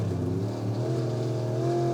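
Drag racing car powered by a Next Gen Engineering engine, revving hard at high RPM, a loud sustained engine roar with rising and falling pitch, close and continuous with no talk.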